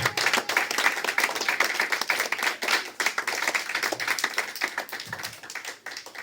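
A congregation applauding loudly during a Sunday worship service in church, dense continuous clapping from many hands throughout, close and energetic with no pauses.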